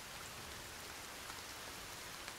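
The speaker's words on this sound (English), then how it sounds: "starts raining." Steady, even rain in the survival video game Sons of the Forest, a constant soft hiss of drops across the whole moment with no other sound or speech.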